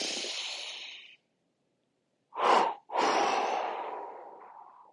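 Deep breathing during Sama Vritti and Ujjayi pranayama: a long airy exhale, a pause of silence, then a quick sharp inhale followed by a long drawn breath, close and clear with no talking.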